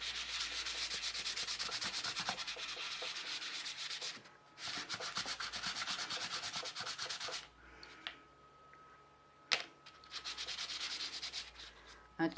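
Dry wet-and-dry sandpaper rubs over a small cast eco casting powder air freshener piece in rapid back-and-forth strokes, close and scratchy, with a few short pauses between bursts and no talking.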